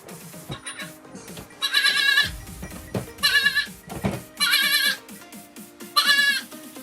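Goats bleat in four loud, wavering bursts about a second long, evenly spaced and close by, over quieter farmyard noise with softer thumps in between.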